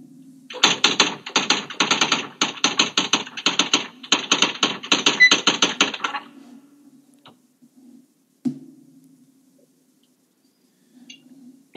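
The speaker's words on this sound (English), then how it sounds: "I was typing my answers." Rapid keyboard typing in steady bursts of clicks and taps, close and fairly loud for about six seconds, then stopping into near silence broken by a single soft knock.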